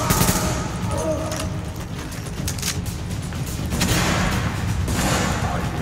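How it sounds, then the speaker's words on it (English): An enemy in The Division video game fires a shotgun amid a dense, loud battle, with repeated blasts and rattling gunfire running throughout and a heavier burst near the end. "He has some sort of shotgun"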